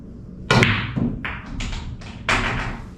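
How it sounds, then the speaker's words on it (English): Pool balls knock in a close, quiet room as a low-struck cue ball hits the 3 ball, a sharp click followed by a few softer taps and thuds from the balls rolling and striking. "let's see if I can hit that 3 with that shot"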